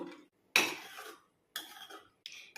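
A spoon scrapes and clatters against a pot while boiled lima beans are stirred into yellow pumpkin kootu, in short separate bursts with quiet gaps between, close and fairly soft.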